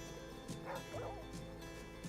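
Dog indoors giving a few quiet, short yips and whimpering barks, faint and somewhat distant, spread across a couple of seconds over a low steady hum.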